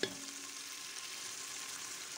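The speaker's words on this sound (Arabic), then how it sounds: "خلوه يتقلى مع بعض" Onion pieces frying in melted ghee and oil give a steady, close, broadband sizzle with no breaks, a faint clink right at the start and no voices.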